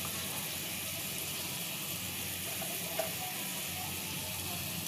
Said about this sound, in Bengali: এবার দিয়ে দেবো হলুদ গুঁড়ো,